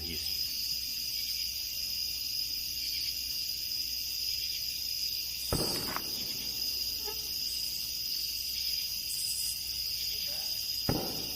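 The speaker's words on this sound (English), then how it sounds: "the eerie chirping of crickets fills the dark, making it seem like a quiet night" Crickets chirp steadily at night in dark woods, a dense continuous high trill filling the whole stretch, with a couple of sharp distant cracks breaking through partway.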